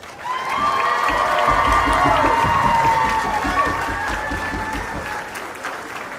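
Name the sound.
applause for the couple at a wedding reception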